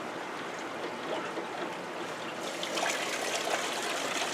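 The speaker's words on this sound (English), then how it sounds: "Water dumps right down into there with a sump pump built into the tub." Water draining through a clear aquarium siphon tube into a tub fitted with a sump pump, a steady close trickling and gushing flow that grows slightly louder and brighter midway.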